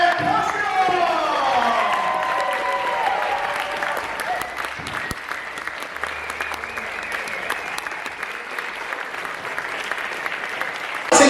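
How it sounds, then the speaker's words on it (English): An audience at The Astor theatre in Melbourne bursts into loud, dense applause with cheers and whoops as actor Mark Dacascos comes out, the clapping staying full and sustained before easing slightly toward the end. "Give a round of applause to Mark Dacascos!"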